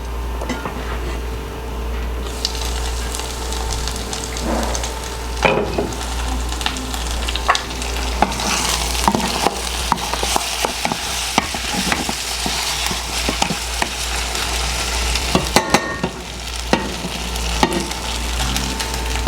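Steady frying sizzle of corn mutton with frequent scraping and stirring clatter from a utensil, a constant low hum underneath, no voices.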